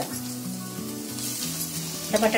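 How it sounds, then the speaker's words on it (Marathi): Potato dropped into dryly frying onion in very little oil, giving a sizzling hiss with a sustained low tonal hum beneath it and a burst of crackle near the end, close and fairly loud. "आता आपल्याला याच्यामध्ये बटाटा टाकायचा आहे."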